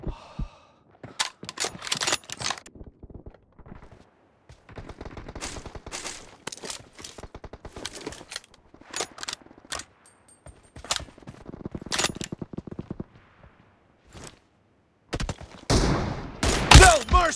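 Gunfire in the mobile battle game PUBG Mobile, with rapid automatic bursts and single shots in irregular clusters, loud and close, with brief gaps and short voice lines between.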